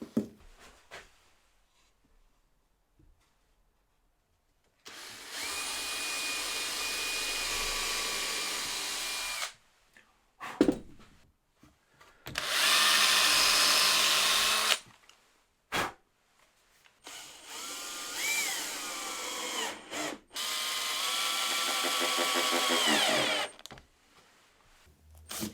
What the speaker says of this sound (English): I'm going to drill some pilot holes because I don't want to split the MDF